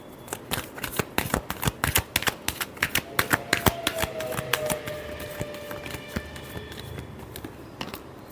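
Tarot cards being shuffled by hand in rapid riffling bursts, a dense run of sharp papery snaps and flutters, close and fairly loud, with no talking.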